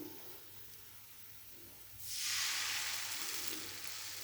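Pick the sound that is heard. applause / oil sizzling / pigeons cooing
oil sizzling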